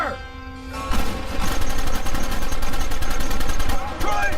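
Gunfire in a Red Dead Redemption shootout, a rapid, loud stream of rhythmic shots that starts after a short pause and keeps going with little letup.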